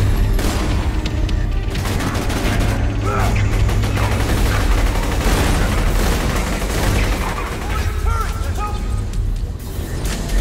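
Borderlands 2 gunfire rattles loud and dense in fast bursts amid mechanical clatter and booms, with voices talking over the shooting.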